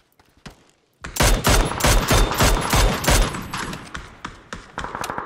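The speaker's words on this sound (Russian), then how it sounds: "У нас слева МКшка стреляет" MK rifle firing in an online shooter video game, rapid overlapping gunshots in a dense, loud volley after a brief quiet start, then thinning to scattered shots.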